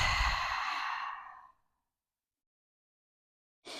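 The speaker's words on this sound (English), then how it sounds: "Full breath in and full breath out." A long, audible exhaled breath, like a slow sigh during a yoga pose, fades out after about a second and a half, followed by silence and then the start of another breath.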